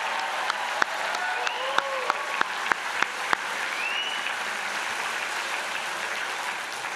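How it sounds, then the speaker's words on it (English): Convocation audience applauding a graduating class at an evening ceremony, a broad steady wash of clapping with a few sharp louder claps in the first half, sustained evenly to the end. "One more round of applause."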